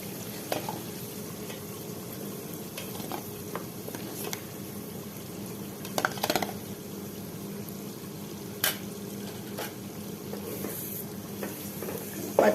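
Raw coconut paste is stirred into hot oil for a mutton curry, sizzling and frying steadily close by. Sharp scrapes and clicks from the stirring come through at intervals, and no one speaks.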